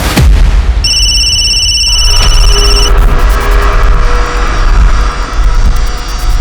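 An electronic phone ringtone trills steadily for a couple of seconds over a constant loud background rumble, then fades into ongoing noise.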